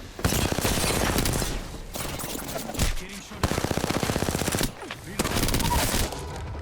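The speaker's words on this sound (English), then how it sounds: "Getting shot at." Rapid automatic gunfire in the Apex Legends battle royale shooter, loud close bursts in several long strings separated by brief gaps, with rattling rounds and impacts throughout.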